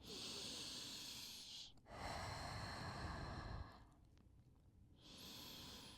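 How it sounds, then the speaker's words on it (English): Slow, deep breaths drawn in through the nose and let out through the mouth during a beginner Pilates back session, heard alone: a hushed breathy inhale, a fuller rushing exhale, then another quiet inhale. "Breathing in through the nose and out through the mouth."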